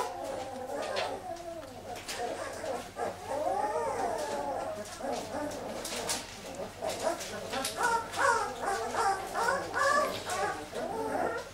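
Asil puppies from a litter of twelve whimper and yelp at feeding time, their high, wavering cries overlapping continuously and fairly close, with occasional bird chirps in the background.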